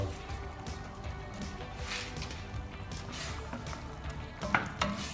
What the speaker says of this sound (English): Okay, so my vegetable is boiling.